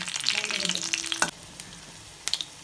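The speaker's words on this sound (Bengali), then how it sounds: "কালো জিরা কাঁচা লঙ্কাটাকে আমি একটু ভেজে নেবো।" Nigella seeds and green chillies sizzle in hot oil in a pan, a bright crackling fry that drops off sharply midway, followed by a few faint pops.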